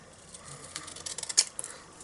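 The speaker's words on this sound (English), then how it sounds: "I'm just going to use my scissors just to" Scissors snip through cardstock in a quick run of faint, crisp clicks that grow a little louder near the end, in a quiet room.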